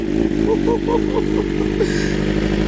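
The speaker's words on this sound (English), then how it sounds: "I love this bike so much. It sounds so good." A BMW M1000RR superbike engine runs steadily and loudly up close, its throttle blipped in a quick series of rising and falling revs over a constant rumbling idle.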